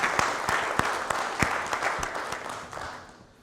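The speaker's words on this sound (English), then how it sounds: "Can we give them a round of applause?" Conference audience at a closing session giving a round of applause, with distinct individual claps standing out over a clapping crowd that gradually thins and fades toward the end.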